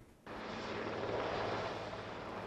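President Biden's helicopter arriving at Windsor Castle, a steady broad rotor and engine roar that cuts in abruptly and holds loud and close without any voices.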